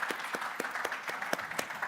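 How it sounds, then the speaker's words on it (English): A crowd at a conference applauds the panelists, a brief burst of steady clapping heard close and continuous. "A round of applause for our panelists."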